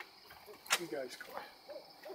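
An owl hooting outdoors at night: a few faint, distant hoots sit over a quiet background hiss, with no clear talking.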